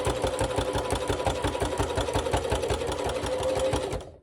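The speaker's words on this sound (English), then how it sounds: "I'm going to just do a back stitch" A sewing machine stitches a potholder seam with a back stitch, running in a fast, even mechanical chatter close by for about four seconds before stopping abruptly, with no talk.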